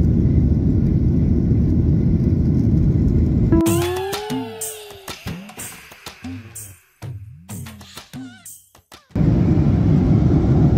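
Steady low cabin roar of an IndiGo airliner in flight, fading under close voices talking for several seconds in the middle, then returning at full strength.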